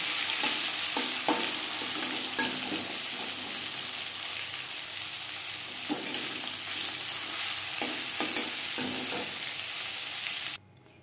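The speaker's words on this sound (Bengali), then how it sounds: "পরের মাছ ও মাছের কাটা একইভাবে ভেজে নেব" Fish and fish bones fry steadily in hot oil, a loud continuous close sizzle with occasional scrapes and taps of a utensil, running unbroken and then cutting off abruptly near the end, with no talking.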